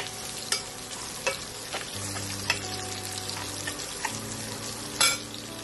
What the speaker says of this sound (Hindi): 1 टीस्पून अजवाइन एंड 1 टीस्पून मस्टर्ड सीड्स। इसको अच्छे से पकाएंगे।